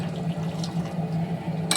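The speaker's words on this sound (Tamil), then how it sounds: "இன்னும் கொஞ்சம் தண்ணி ஊற்றிக்கணும்." Water poured into a pot of lentil-ball curry (paruppu urundai kuzhambu), a steady close trickle and splash of liquid running for a couple of seconds, with a brighter splash at the end.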